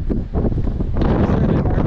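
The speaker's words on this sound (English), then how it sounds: "It's extremely windy up here." Strong gusty wind buffets the microphone on a 2,900-foot cliff summit on the Appalachian Trail near Catawba, Virginia, a loud continuous roar that swells and surges with no voices.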